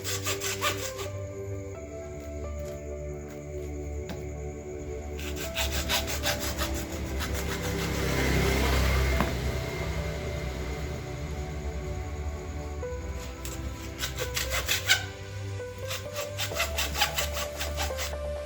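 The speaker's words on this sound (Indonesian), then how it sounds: "kita buka ya menggunakan gergaji besi" A hacksaw rasps back and forth through a car battery casing in steady, rhythmic strokes, close and continuous, with brief pauses between bursts of cutting.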